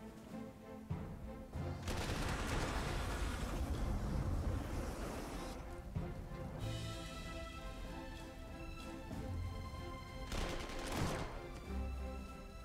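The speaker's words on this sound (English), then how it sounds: "We use our artillery against these enemy infantry down here." Artillery fire in the video game Panzer Corps 2 booms against enemy infantry in two loud, noisy blasts with rumbling decay, set over a continuous low background din.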